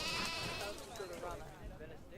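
Sheep bleating in a Planet Zoo game, several wavering calls overlapping close up over soft background game ambience, with a voice talking alongside.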